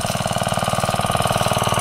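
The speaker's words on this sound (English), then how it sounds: "we're going to try to move it with the Bready Walk Behind tractor" A Bready walk-behind tractor engine chugs in a fast, even rhythmic pulse, close and steady without talk, before pulling a fallen willow branch.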